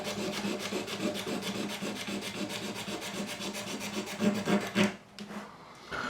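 A tool scrapes grime off the fretboard of a Yamaha FG403-MS acoustic guitar in quick, even rasping strokes. The close, quiet scraping keeps up for about five seconds and then stops.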